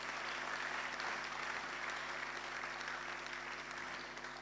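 Applause from an audience at an economic forum, a steady, fairly soft wash of clapping heard from a distance that fades slightly toward the end.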